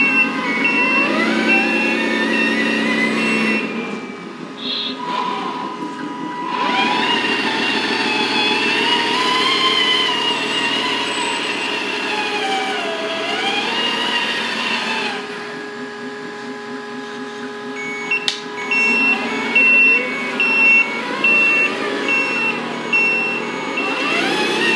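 A customized LESU 8x8 Benz RC truck pulling a hydraulic metal trailer runs in reverse with a loud whining electric motor and gear drone that rises and falls. A high warning beep sounds intermittently, with brief pauses between runs.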